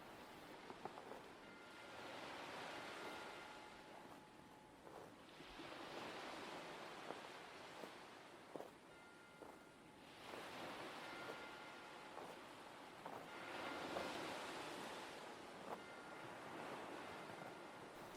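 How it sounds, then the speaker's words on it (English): Gentle waves lap on a beach in slow, recurring swells of soft surf roughly every four seconds, with a steady airy wash between them. The sound is calm and fairly distant, with no voices. "are the gentle lapping of the waves"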